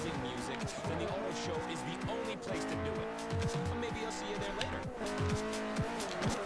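A car racing in Forza Horizon on Xbox 360, engine revving up and down through gear changes with tire squeal, steady and close under someone talking throughout.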